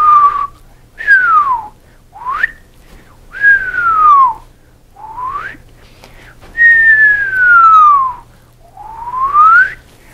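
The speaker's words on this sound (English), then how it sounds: "hope those whistles came across adequately on the video" A series of clear whistled tones, each sliding up or down in pitch, repeated with short pauses in between, loud and close.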